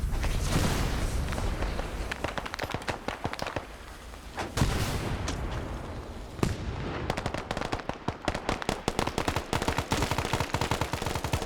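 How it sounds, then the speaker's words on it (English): Rapid bursts of gunfire in a Vietnam War video game at night, dense volleys of sharp cracks and automatic fire, some near and some distant, continuing without pause throughout. "all those shots were landing just short"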